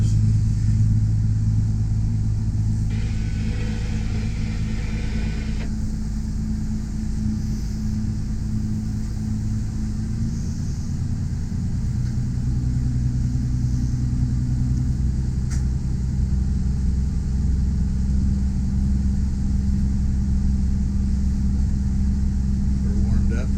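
Engine of a Nordhavn 57 trawler yacht running steadily at 1300 RPM while underway offshore from San Diego to Ensenada, a loud, continuous low droning rumble throughout with a steady hum.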